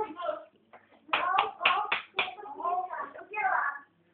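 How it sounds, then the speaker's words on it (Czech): An audience applauds in a few short bursts of clapping, with a voice talking before and after them. "Pěkný potlesk."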